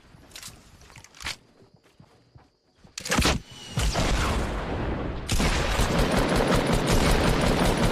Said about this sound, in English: He just tried to swap to a tactical shotgun after shooting his pump.